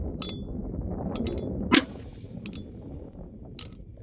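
A rifle shot fired at a long-range target, a single sharp crack near the middle over steady wind and outdoor background noise, with a few faint metallic ticks around it.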